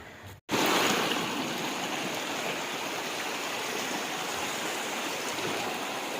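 Water of the Budhabalanga river near Bangiriposi flowing with a loud, steady rushing roar, close and unbroken after a momentary dropout at the start.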